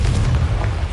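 A deep blasting rumble from the Confringo spell in Hogwarts Legacy, one heavy, close explosion with a low boom that holds through the moment.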